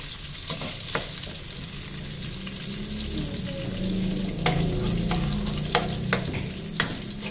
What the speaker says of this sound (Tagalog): Mag-igisa muna ako guys. Nilagay ko na rin pala yung sibuyas guys.